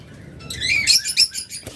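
Small birds chirp in a brief flurry of high, bright tweets, close by, with a faint flutter of wings and no voices.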